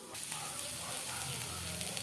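Onion and spice paste with turmeric and Kashmiri chilli frying in a hot pan, a dense, continuous close sizzle and hiss with no voices.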